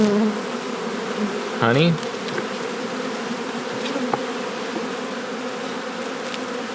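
Honey bees buzz steadily and close throughout an open hive during a spring inspection, with a brief louder swell of wingbeats near the start and a single short spoken word.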